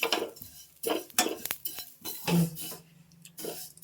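Thin vermicelli (semiya) roasting in ghee in a pan while a spoon stirs it, giving irregular scraping clinks and clatters of metal against the pan, close and moderately loud with no talk.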